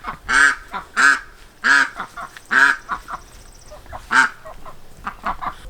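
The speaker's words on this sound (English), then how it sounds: "give them to the ducks that you can probably hear" Garden ducks quack loudly and nearby in a farmyard, a run of harsh, honking calls in quick bursts, about seven strong ones with softer calls between.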